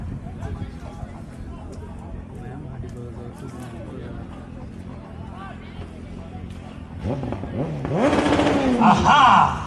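At the Kiganjo superbike drag race, a Yamaha R1M engine rises and screams louder toward the end over a background of crowd chatter and people talking.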